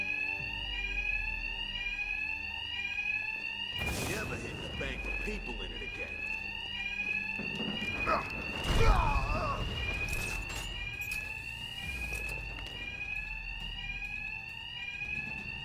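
A repeating electronic alarm rings in Batman: Arkham Knight, rising whoops cycling steadily throughout while someone talks over it and impact-like bursts break in.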